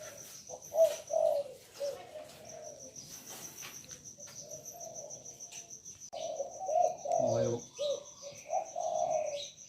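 Pigeons or doves coo in repeated soft bursts at a bird house in Maha Sarakham, Thailand, with a steady high insect trill running beneath and a few chirps scattered through.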